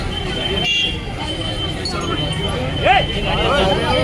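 A vehicle waits behind a crowd at a medical camp, sounding its horn in short toots amid loud traffic noise and people talking nearby.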